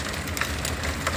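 Rain falling steadily outdoors on a November Sunday, a soft continuous hiss with faint scattered drop patters, heard alone without any voices.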